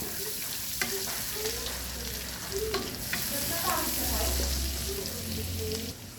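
Butter and garlic powder sizzle quietly in a pan while a spoon stirs with soft scrapes and knocks, a low steady fry beneath occasional clinks.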